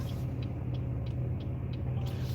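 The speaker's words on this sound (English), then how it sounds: "There's a lot of traffic here." Steady low road rumble of heavy city traffic, with engines and passing vehicles, heard from inside a moving car; continuous and fairly loud throughout, with no voices.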